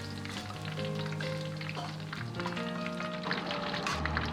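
Pork ribs deep-frying in hot oil for salt-and-pepper ribs, giving a steady, dense crackling sizzle that runs the whole time without any talk.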